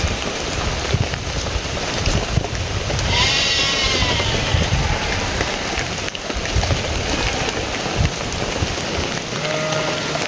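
Steady rain falling in a rural village near rice fields during the rainy season, a dense, continuous hiss of drops on surfaces with no speech, loud and close throughout.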